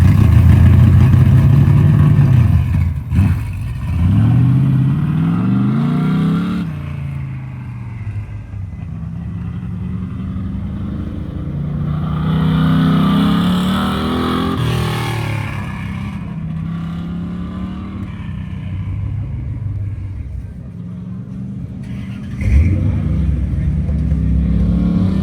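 An old truck on an autocross run at a wet GRIP event revs hard and shifts repeatedly, the engine rising and falling through gears loud and close for the whole pass, with a sharp burst near the end.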